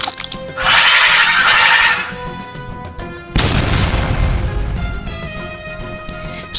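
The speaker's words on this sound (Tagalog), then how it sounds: "Sumabog ang sigbin at nagkalat ang dugo at laman nito sa sahig" An explosion sound effect marks a creature, a sigbin, blowing apart in a Filipino horror tale: a hissing burst first, then a sudden loud boom with a decaying rumble, and no talking.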